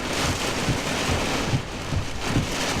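Wind-driven rain during a straight-line wind storm, a steady, dense roar of rain and gusts, close and loud, with no talking.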